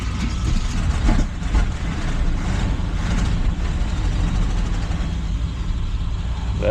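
A cold 1981 Chevrolet C20 Scottsdale pickup engine runs steadily at close range, a continuous broadband rumble and rattle with a couple of brief surges early on and no talking.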